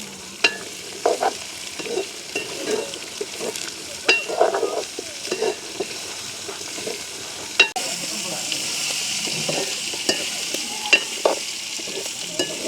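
Close sizzling and frying of carrots in oil, with repeated scraping and stirring in a pan, steady hiss rising louder in the second half.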